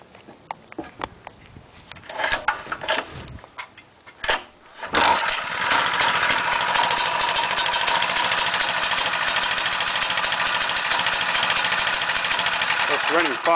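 A Lifan Greyhound clone 6.5 small engine with a starting problem, on closed choke, is pulled a few times with sputtering bursts, then catches and runs steadily at a loud, close, even idle for the rest of the time.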